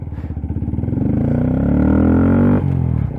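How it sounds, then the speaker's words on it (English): A Honda Grom motorcycle fitted with a Yoshimura exhaust revs loudly and close by, its pitch climbing steadily before a sharp drop and a brief second blip at the end. "the exhaust, as you guys heard in the flyby before and after, is just completely, I would say it's like 4 to 5 times louder"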